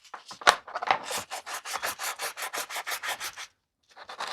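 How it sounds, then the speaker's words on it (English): Sandpaper rubs in quick, even back-and-forth strokes along the grooves of a Dredd Lawgiver prop gun, a close, raspy scratching. The strokes stop abruptly, followed by a short pause and a final few strokes. "I'm just going to go into the grooves and then just give them a nice rub"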